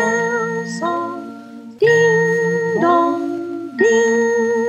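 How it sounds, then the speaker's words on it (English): A soft bell ding-dong in a children's lullaby, with a few gentle sustained chimes, each falling then ringing on, played clearly with a tonal backing and no talk. "Ding dong, I play a soft bell song, softer, softer."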